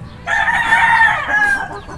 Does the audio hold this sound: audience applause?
no